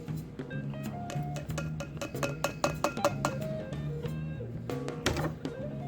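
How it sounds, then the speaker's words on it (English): A whisk clinks rapidly against a glass jar while mixing a salt brine solution, producing a steady series of bright metallic taps and rattles close up with no talking. "Grab a whisk and whisk it all together."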